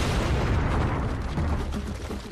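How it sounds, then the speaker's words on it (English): A huge siege cannon fires during the 1453 siege, a loud, sustained roaring boom that fills the whole stretch and rolls on without a break before easing slightly at the end. "the largest cannon that had ever been built was put to devastating effect"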